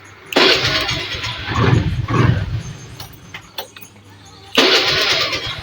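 A carburetted Honda Vario scooter engine cranks and catches, runs briefly, goes quiet with a few clicks, then fires up again near the end. The starts are close and fairly loud.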